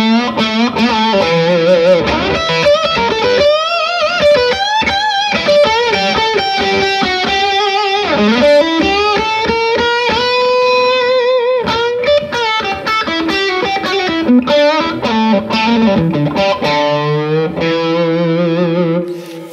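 Electric guitar through a Klon-type overdrive pedal with mid boost plays a lead melody with bends and sustained notes, loud and saturated, continuous throughout with no talking.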